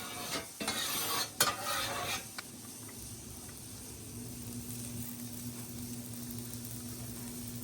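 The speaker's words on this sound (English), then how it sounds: "just stirring these noodles around" Noodles frying in a pan with a touch of oil and stirred around. Near scraping and clanking strokes come first, then a steady low sizzle carries on quietly without talk.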